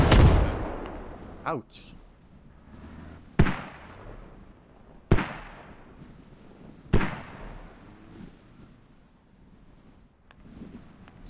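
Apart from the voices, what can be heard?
rocket strike explosions in the video game Squad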